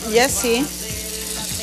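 Corn fritters frying in hot oil: a close, fairly loud bubbling sizzle with a brief spoken phrase over its start, the frying then continuing steadily on its own.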